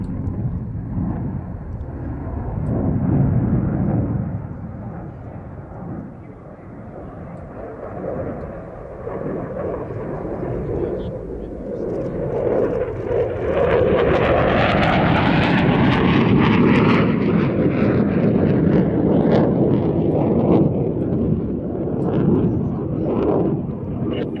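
Aircraft flying a display at the Royal International Air Tattoo 2022, a loud continuous engine roar that swells and rises in pitch as it passes, with wind buffeting and no voices.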